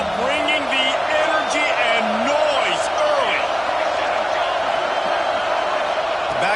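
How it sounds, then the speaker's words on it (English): Dense, steady roar of a large football stadium crowd with whistles and rising and falling shouts, loud and continuous beneath a commentator's voice. "This crowd bringing the energy and noise early."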